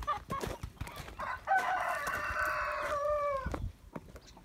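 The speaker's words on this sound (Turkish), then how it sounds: "şimdi tavuklarımızı açıyoruz sabah" A rooster gives one long, clear crow near the middle, surrounded by the sharp, irregular clucks and squawks of several chickens on a farm in the morning, all close and moderately loud.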